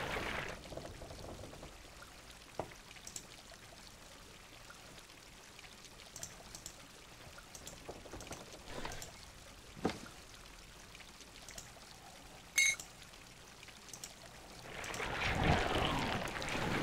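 Water pours and trickles in the fantasy puzzle game Grim Legends, a steady, soft stream with scattered drips, swelling into a louder rushing flow near the end, heard alone without talk.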